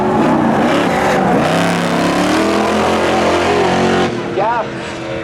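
A Camaro and a 1986 Firebird launching in a spectator drag race at Seekonk Speedway, loud engines revving and climbing through gears together, with a commentator talking over the roar.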